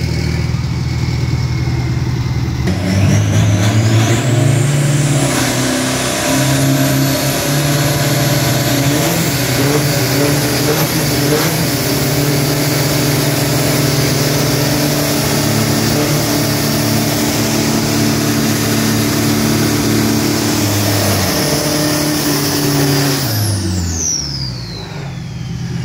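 A Steet Truck 2500 turbo drag truck engine held at a loud, steady high rev for about twenty seconds, rising at the start and dropping away at the end, with a faint voice underneath.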